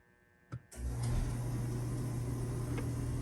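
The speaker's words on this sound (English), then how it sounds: "You can hear the furnace come on." A home furnace kicks on after a click, building within a second into a steady low blower hum and rush of air that continues evenly, close and fairly quiet with no talk.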